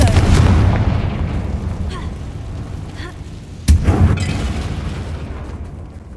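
A Confringo blast spell goes off in Hogwarts Legacy, a heavy booming burst at the start and a second sharp explosive crack midway, each rolling into a dense rumbling tail under game noise.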